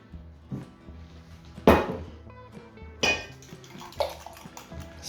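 A frying pan and utensils clink and clatter while an omelette is cooked, with a few sharp metallic knocks spaced apart over faint kitchen background, close and without speech.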